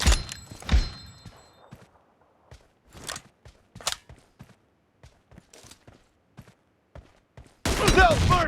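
Gunfire in the battle-royale shooter PUBG during a team deathmatch: a series of sharp, separate shots in an uneven rhythm, some louder and nearer, with a dense loud burst near the end.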